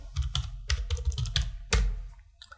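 Rapid keystrokes clack on a computer keyboard at close range, a quick uneven burst of about a dozen taps with one heavier press near the end.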